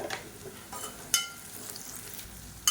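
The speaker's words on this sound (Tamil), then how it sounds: "இப்போ வெங்காயம் லேசாக வதங்க ஆரம்பிச்சிருச்சு" Sliced onions sauté in a pan with mustard seeds, fennel and curry leaves, giving a soft, steady sizzle with light stirring and a couple of sharp utensil clinks, quiet and close.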